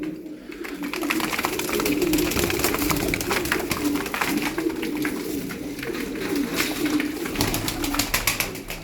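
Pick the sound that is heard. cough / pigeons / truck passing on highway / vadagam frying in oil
pigeons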